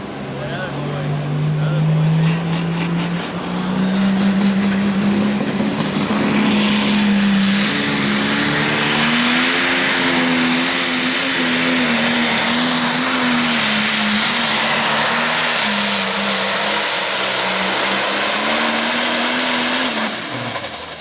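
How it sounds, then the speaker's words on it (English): A loud light pro stock pulling tractor engine roars and strains steadily for about twenty seconds at a tractor pull, its pitch climbing gradually then holding, with a hissing, rattling wash over the top. "he got to ride this light pro stock tractor"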